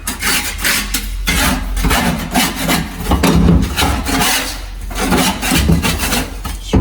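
Scraping on a junkyard Ford Bronco, a loud, continuous rasping and rubbing that runs in repeated strokes throughout, close up with no talk over it.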